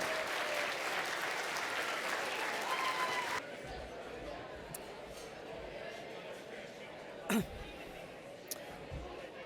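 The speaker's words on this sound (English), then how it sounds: "Give FCA a huge round of applause." Audience at the IMAGINE 2023 evening event breaks into loud, dense applause with scattered cheers for about three seconds, then drops to a quieter room murmur with a single sharp knock.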